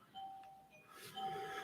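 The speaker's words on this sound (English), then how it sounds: "Oh, the doorbell's going nuts. The doorbell woke up. We got a doorbell problem." A doorbell malfunctioning and chiming on its own, two thin electronic ding tones sounding in quick succession, faint and somewhat distant in a quiet room.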